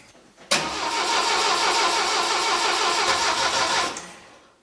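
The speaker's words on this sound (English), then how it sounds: "Now I'm going to try to turn it over," A Saab Sonett engine cranks and catches with a sudden loud onset, running steadily and strongly for about three seconds before dropping away.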